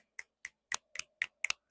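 Seven crisp finger snaps in a fairly even rhythm, close and fairly quiet, with no talking over them.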